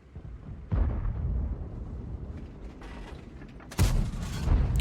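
A tank gun on an AMX 30B fires in World of Tanks, with two deep booming blasts a few seconds apart over a rumbling engine background.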